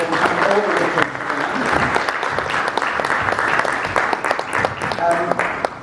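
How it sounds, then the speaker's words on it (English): Summit audience applauding a speaker, a dense, steady burst of clapping from many hands throughout, close and loud. "Let's give him a round of applause."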